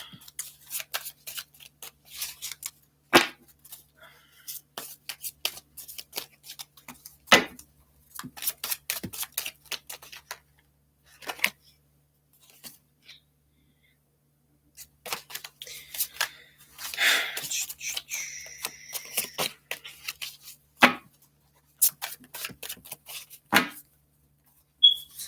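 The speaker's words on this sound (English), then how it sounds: "I'm just shuffling" Tarot cards are shuffled by hand in soft, irregular bursts of riffling and flicking, with pauses between, quiet and close.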